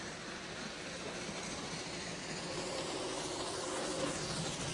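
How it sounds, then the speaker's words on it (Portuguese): A train rolling with a continuous dense rumble and hiss, steady and fairly loud throughout with no voices. "Vamos acionar o trem de novo."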